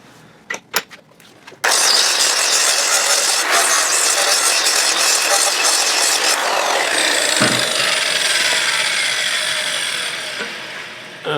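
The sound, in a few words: 9-inch angle grinder grinding steel surface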